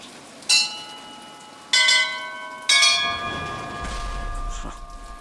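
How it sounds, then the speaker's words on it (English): Bells tolling in the video game Bioshock Infinite: three loud, resonant metallic strikes about a second apart, each ringing on with sustained overtones, followed by a low rumbling ambience as the last tone fades. "Let's ring them bells."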